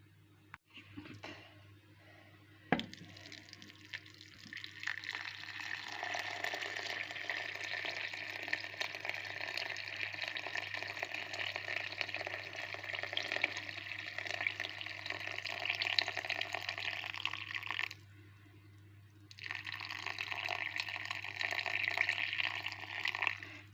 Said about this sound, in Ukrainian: і залю водичкою